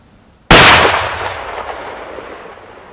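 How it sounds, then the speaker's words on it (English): A single loud rifle shot fired at a whitetail deer during a South Texas hunt, a sharp crack followed by a long rolling echo that fades over a few seconds outdoors. "There's my shot."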